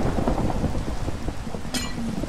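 Rain and thunder in the video game Minecraft: steady rainfall hisses throughout while low rolling thunder rumbles underneath, with no talk over it.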